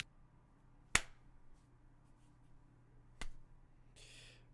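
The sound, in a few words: reverse clap, backs of palms slapped together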